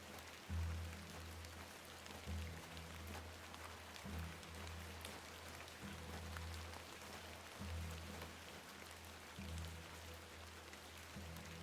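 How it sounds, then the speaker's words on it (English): Steady rain falls throughout a scene in the video game The Excavation of Hob's Barrow, a soft continuous hiss over a low droning ambient loop that swells in regular pulses, with no voices. "Let's get out of the rain."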